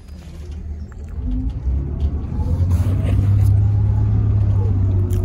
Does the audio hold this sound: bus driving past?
yes